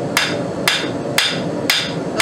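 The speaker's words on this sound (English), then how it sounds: "We're just going to hammer this out and try to compress" A hammer strikes a glowing orange-hot billet of stacked quarters during forging for mokume gane, landing five sharp, evenly spaced blows about half a second apart, loud and close with no talk.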